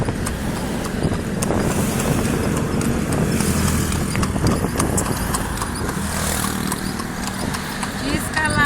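Hooves of a horse pulling a carriage in the Philippines, a steady clip-clop rhythm close by on pavement, mixed with road noise and passing traffic while people talk throughout.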